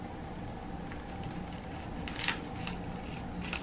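Kitchen scissors snip through the feet of a whole chicken being prepared for Chinese-style steamed chicken, giving a few faint, crisp cuts over a steady room hiss.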